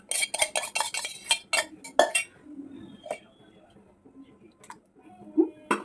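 Chicken biryani marinade with chili, turmeric, salt and lemon being stirred in a bowl: a quick run of spoon clinks and scrapes up close, then sparser knocks, with a brief voice in the background.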